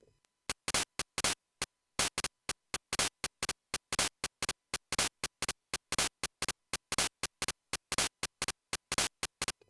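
Rapid bursts of harsh chiptune percussion from the Game Boy's noise channel tick out an irregular rhythm, each hit short and crisp, with no other sound around them.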